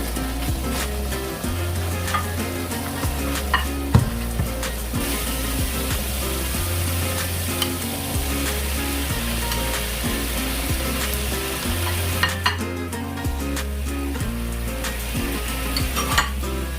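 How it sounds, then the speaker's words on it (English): Coconut cream being stirred into green chili paste in a pan for Thai green curry, a loud steady sizzle with repeated scraping strokes and occasional clinks against the pan throughout. "keep adding coconut cream a little bit at a time, stirring it until the chili paste gets a bit thicker"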